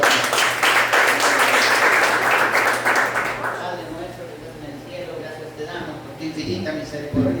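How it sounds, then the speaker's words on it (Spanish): Church congregation clapping together in a steady, loud burst that fades after a few seconds, followed by quieter murmuring and talk in the room. "Denle palmas al Señor"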